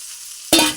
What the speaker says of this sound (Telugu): మునగాకు సిమ్ములో పెట్టుకొని బాగా వేయించుకోవాలి.